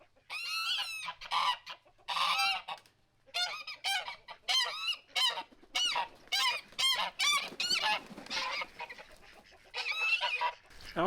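Two guard geese honk loudly and repeatedly at close range, their harsh calls coming in rapid, irregular bursts through the whole stretch with short pauses between them.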